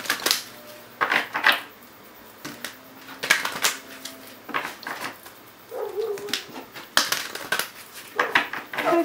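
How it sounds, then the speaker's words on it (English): Tarot cards shuffled by hand during a psychic reading, giving a run of crisp papery riffles and slaps in uneven bursts, close and fairly loud, with no talking. "A little shuffle for Libra."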